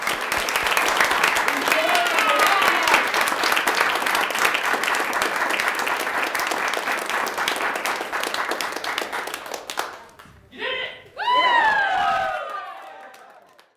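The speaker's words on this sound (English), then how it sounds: "Please, one last round of applause, and thank you all so much for coming out." Audience applause and cheering at the Alaska State Poetry Out Loud competition, a loud sustained crowd clapping with whoops and shouts for about ten seconds, then a few isolated cheers and a brief final burst of applause and yells.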